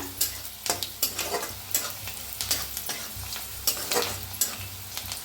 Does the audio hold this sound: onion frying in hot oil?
yes